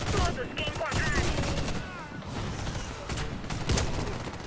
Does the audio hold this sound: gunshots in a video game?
yes